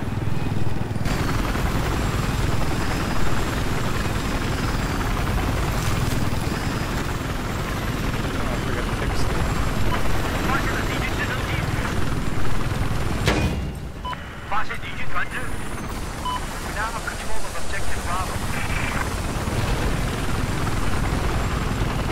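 A helicopter in Battlefield 4 on the Paracel Storm map gives a loud, steady rotor throb and engine whine that runs the whole time, with a short dip in intensity partway through.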